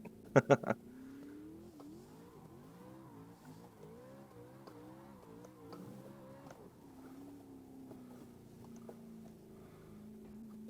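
A 1000 HP BMW drift car with a bent control arm drifts in the racing game Assetto Corsa, its engine note repeatedly rising and falling in revs at moderate volume, after a few sharp clicks at the start.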